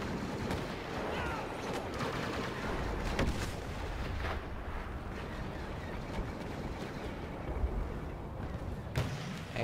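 Rapid gunfire and grenade blasts in a multiplayer shooter match, a steady dense barrage of shots and booms running throughout at moderate loudness, with no voices.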